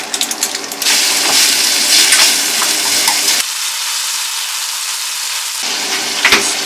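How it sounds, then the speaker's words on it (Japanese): Ground pork sizzles loudly in sesame oil in a pan, a close, continuous hiss with occasional stirring scrapes and a brief drop in intensity midway. "豚ひき肉を入れてごま油で炒めます。"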